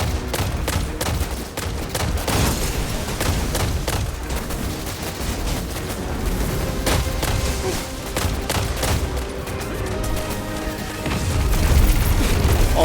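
Dense, loud gunfire and booming explosions from a Destiny 2 firefight on PS4 Pro, with auto rifle fire among them, sustained without pause for the whole stretch and swelling slightly toward the end.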